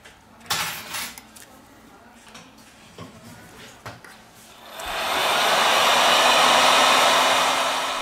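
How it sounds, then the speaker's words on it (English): A heat gun blows hot air onto a Xiaomi Redmi 7 phone during a teardown repair. A few handling clicks and taps come first, then a loud, steady close whooshing roar starts and runs to the end. "With the help of the heat gun, we apply 19 Celsius degrees during 4 minutes."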